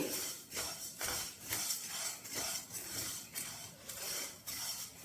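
A teaspoon of black peppercorns dry-roasts in a pan for instant puliyogare mix. The peppercorns rattle and scrape against the metal in a steady, repeating stirring rhythm, close and fairly quiet, with no voices.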